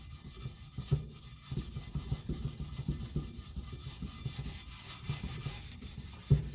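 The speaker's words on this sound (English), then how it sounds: "Then just take a Scotch-Brite pad and very gently go over the top." A Scotch-Brite pad rubs gently over glue residue on an anodized motorcycle swingarm from a YZ490, giving a steady, soft scratchy scrubbing in quick back-and-forth strokes, close and fairly quiet.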